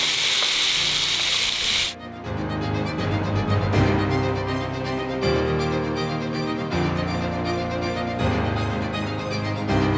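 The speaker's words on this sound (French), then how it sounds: "Avec Dumas qui fait ses oignons. Moi je fais des œufs." Onions and eggs frying in a pan during a cooking break, a steady loud sizzle that runs on with faint scraping and stirring throughout.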